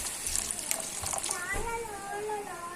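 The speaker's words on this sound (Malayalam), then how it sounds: "കുറച്ച് വെള്ളം കൂടെ ഒഴിച്ച് കൊടുക്കാം." Water being poured into a pan of simmering papad curry, a soft gushing stream near the mic for a couple of seconds, with a voice speaking over part of it.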